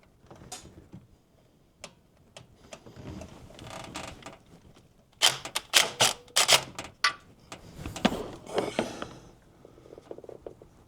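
A wobble socket wrench loosens a bolt on a Duramax diesel truck engine, giving sparse metallic clicks and then a dense burst of ratcheting taps and knocks, close and fairly loud, with no talk.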